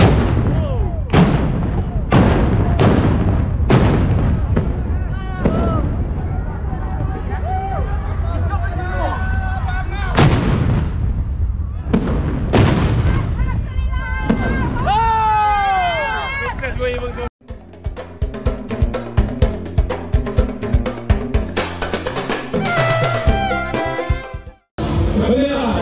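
A ceremonial gunfire salute booms out at a Pontianak city anniversary celebration as a series of loud, sharp shots rings in separate bursts over a busy crowd and music, with a rapid rattling volley near the end.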